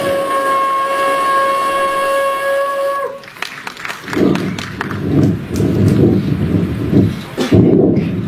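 A steam train whistle blows a long steady tone for about three seconds, then the train pulls away with rhythmic chuffing and rumbling that grows louder near the end.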